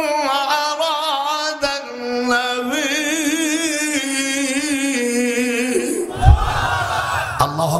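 A crowd at a rally chants a loud, sustained battle cry of Allahu Akbar in response to a slogan, many voices rising together in a long drawn-out shout that breaks off near the end.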